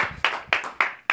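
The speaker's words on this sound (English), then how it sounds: "All right, clap it up." Audience at a college open mic clapping in four quick separate bursts, each a sharp onset that fades fast, close and fairly loud, with no voices over it.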